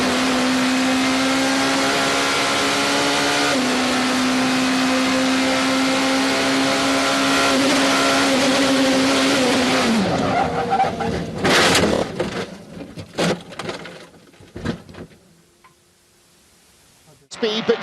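A motorsport race car engine drones loudly at a steady pitch, then a heavy crash as the car rolls and lands back on its wheels, with sharp impact bangs and scraping before the noise fades.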